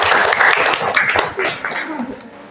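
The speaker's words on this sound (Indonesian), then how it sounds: "tepuk tangan untuk presentasinya Bapak ini" A small classroom group claps for a presentation, a short scattered patter mixed with murmuring voices that tapers off within a few seconds.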